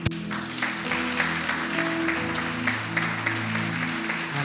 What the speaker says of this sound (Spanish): ¿Por qué no le das un aplauso?